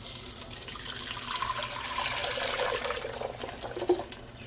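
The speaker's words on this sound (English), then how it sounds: "now that we have blended the pepper mix, we're gonna throw it here." Blended pepper mix pours into a pot of hot oil for chicken mole, giving a steady wet rushing hiss that swells slightly and ends with a small splash, with no talking.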